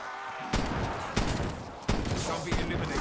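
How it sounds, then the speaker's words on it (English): Gunfire in the zombies mode of Black Ops Cold War, four loud, sharp blasts at roughly even intervals over dense, continuous game noise. "Hopefully the gunshots aren't coming through too loud."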